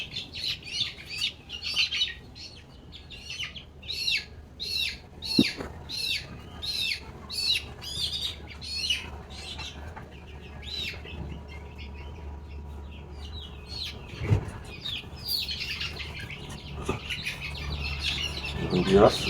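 White broiler chicks on a poultry farm, weighing around 300 to 400 grams, chirping in a quick run of high, repeated peeps through the first half. The calls then thin out under steady low background noise.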